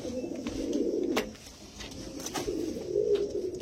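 Pure Andhra pigeons coo steadily and close by, with low throaty rolls rising and falling and a few sharp clicks of movement mixed in.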